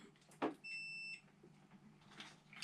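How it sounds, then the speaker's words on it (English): Steady electronic bleep from a multimeter set to continuity (ohms) mode on a Jabsco water pump repair bench, a single tone lasting about half a second after a brief knock, with low room noise and no talk. "audible bleep that you can set on this particular multimeter"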